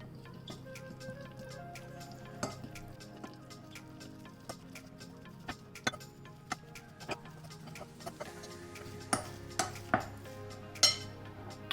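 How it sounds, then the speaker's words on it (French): Whisk or spoon stirring a cake batter of orange juice and oil in a bowl for a maple syrup cake, with irregular clinks and scrapes that grow sharper toward the end, close and fairly quiet. "Et on va mélanger tout ça."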